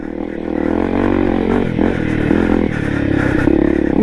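Honda CRF250 enduro motorcycle on a trail, its engine loud and close and revving steadily with throttle surges, with chassis clatter underneath throughout.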